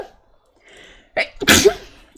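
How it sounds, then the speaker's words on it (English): A single real sneeze: a faint intake and short catch, then a loud, abrupt burst that fades quickly, close to the microphone with no talking. "I have to sneeze."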